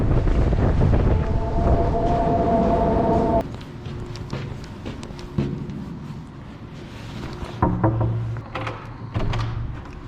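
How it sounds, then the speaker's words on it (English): Strong wind blows during a heavy Toronto snow storm, a loud rushing roar buffeting the microphone that drops to a softer gusting with a few thumps and rattles. "The wind is so strong."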